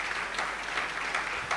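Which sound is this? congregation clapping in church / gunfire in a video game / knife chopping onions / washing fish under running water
congregation clapping in church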